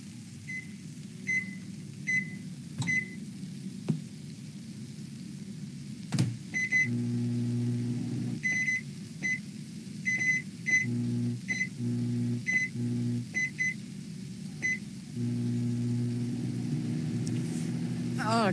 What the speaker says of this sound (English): I microwave the trout.